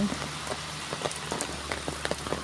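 Steady rain falls on surfaces at a rural village in Thailand on a windless day, a close, dense patter of drops with sharper individual splashes throughout and no voices.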